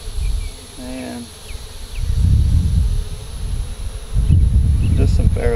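Honey bees buzz steadily around an opened hive box during an inspection, a continuous close drone that persists through the whole stretch and swells louder in the second half, with faint voices in the background.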